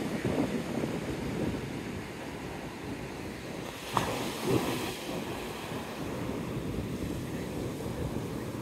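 Gentle waves washing flat onto the sand at Navarre Beach, a steady soft surf wash with wind rumble across the microphone and no voices.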